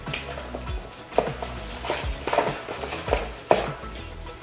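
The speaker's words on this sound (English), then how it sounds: "And if you can hear Poe eating breakfast in the background, I'm sorry." A pet eating breakfast in another room, heard as irregular clinks and scrapes against a dish. Several sharper taps stand out over a low household background.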